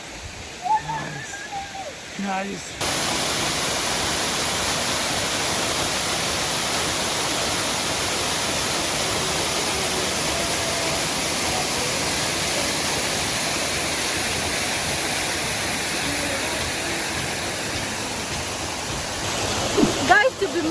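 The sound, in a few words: waterfall at Oloolua Nature Trail, Nairobi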